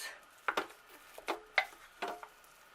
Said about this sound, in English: Okay, I'm going to stir a little bit